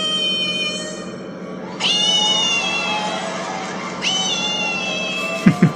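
A person imitates a cat, giving three drawn-out, high, wavering meows in sequence, loud and close, with a low background hum and a couple of short bumps at the end.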